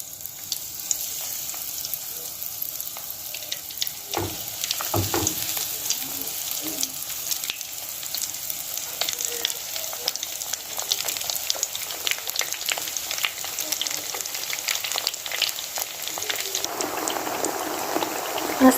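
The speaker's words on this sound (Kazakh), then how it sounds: "Енді майымызды қыздырып, баялдымыздың бәрін салып, екі бетін қызарғанша қуырып аламыз." Eggplant slices fry in hot oil in a pan, giving a continuous, moderately quiet sizzle and spatter with occasional stirring clatter, no talking.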